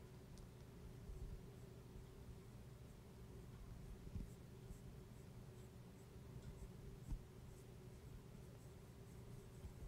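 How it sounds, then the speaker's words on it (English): Mechanical pencil scratching steadily across a scrap piece of paper, a faint, continuous close-up scribbling with light taps, no voices. "This is a mechanical pencil that you buy anywhere, right?"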